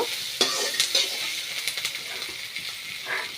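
Sliced onions fry alongside bhol fish in a pan. The sizzle is soft and steady, broken by a few sharp clinks and scrapes from stirring.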